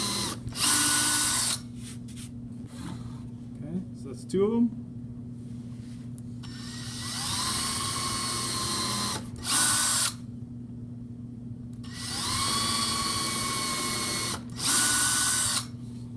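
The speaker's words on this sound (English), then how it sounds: "Now you see here, as I drill, if I drill into my scrap piece of lumber" A power drill bores into a scrap board of pine lumber in three long whining bursts, each several seconds and separated by pauses, close and loud, with a short spoken remark between bursts.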